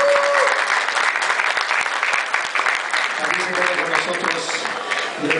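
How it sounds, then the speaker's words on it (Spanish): An audience applauds steadily at a DJ conference panel in Acapulco, a dense, continuous clatter of many hands filling the room, with a voice faintly underneath. "para que pedimos un aplauso, por favor"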